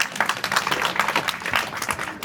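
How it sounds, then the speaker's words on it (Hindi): Brief burst of clapping from a village gathering, a lively patter of many hands at close range with some uneven peaks, no talking over it. "एक बार आपके लिए तालियां"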